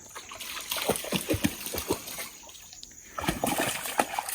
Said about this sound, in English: The spring just seeps out of that bank right there, just continually seeping out, filling that up.